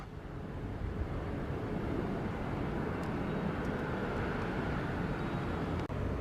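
An airplane at Sangster International Airport in Montego Bay produces a steady, broad engine roar that holds loud and even throughout, mixed with some wind noise.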